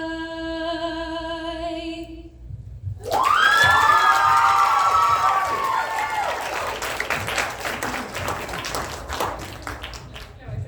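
Cabaret audience at a live show breaks into loud applause and cheering after a sustained sung or played note fades, clapping and shouts swelling then holding steady as a dense, close crowd roar.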